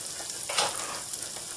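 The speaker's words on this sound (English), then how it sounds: "Now we need to add our vegetables" Vegetables frying in oil in a pan for a Cajun stew with thyme, a steady close sizzle with stirring scrapes rising briefly in the middle.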